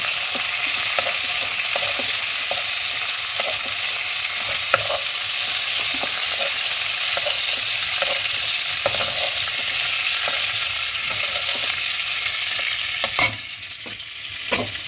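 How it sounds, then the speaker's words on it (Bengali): Prawns fry in a pan in a steady, dense sizzle that runs unbroken throughout, with small pops and a brief clatter near the end; no one speaks. "এই পর্যন্ত আমি চিংড়ি মাছগুলো ভেজে নিলাম।"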